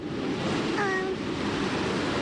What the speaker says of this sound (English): Waves are so rough, they're tossing water onto coastal roads.